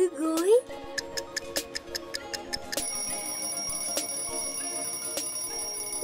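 An alarm clock ticks in an evenly spaced run of sharp, close clicks, then breaks into a loud, continuous metallic ringing tone that holds to the end.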